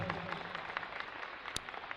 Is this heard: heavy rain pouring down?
no